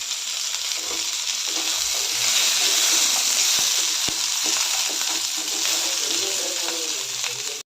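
Cauliflower, carrot and potato with capsicum and cashew pieces fry loudly in a hot pan, a steady close sizzle with occasional stirring scrapes throughout.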